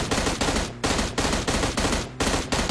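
Gunfire in the PUBG Mobile video game, loud rapid automatic bursts in four close clusters of repeated shots separated by brief gaps, no talk.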